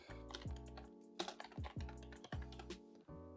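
Keys on a computer keyboard clatter as an email address is entered, quick uneven clusters of close, crisp taps with brief pauses between bursts, no voices.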